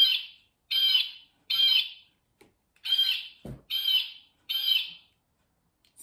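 A toy's recorded blue jay call: harsh, bright bird calls repeat in evenly spaced bursts with brief silences between, plus a single low thump partway through.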